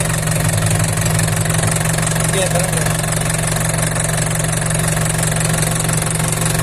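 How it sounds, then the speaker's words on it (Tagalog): An Isuzu 4BC2 diesel engine idles up close with a loud, steady, even clatter and constant vibration throughout, and someone speaks briefly over it. "Walang usok mga boss. Walang blow-by. Ganda ng makina. 4BC2."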